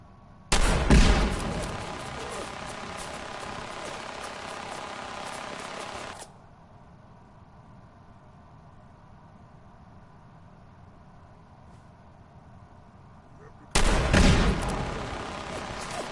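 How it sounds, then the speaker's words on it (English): A modded magnum-round gun fires rockets in Fallout 4, setting off loud, dense bursts of explosions that crackle for several seconds, drop to a low rumble, then erupt again near the end. "some of the explosions are landing right around him"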